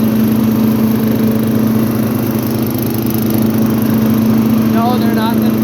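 An MTD riding lawnmower with a 12.5 hp Briggs and Stratton engine runs steadily nearby, a loud, even droning hum with a rhythmic pulse, while a person talks faintly over it toward the end.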